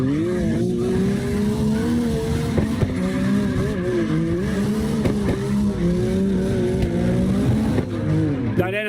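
A Honda NSX drifts in the CarX Drift Racing online game, its engine revving and wavering under long tire squeals, with a player talking over it.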